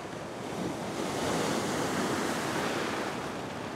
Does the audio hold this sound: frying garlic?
no